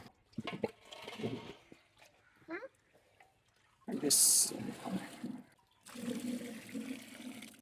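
Water pours from jugs into an orange-flavored homemade popsicle mould in two bursts of splashing flow, the filling of three jugs broken by a pause, with a person speaking between and under the pours.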